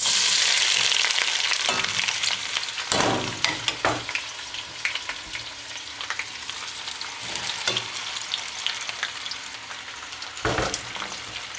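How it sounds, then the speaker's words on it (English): Chopped onions drop into hot olive oil and butter with a loud burst of frying hiss that settles into a steady sizzle, punctuated by several stirring scrapes and clunks, close-up and without speech. "Now I'm going to put this into the hot olive oil and butter."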